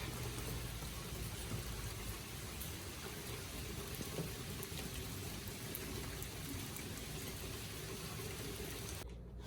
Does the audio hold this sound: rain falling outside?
yes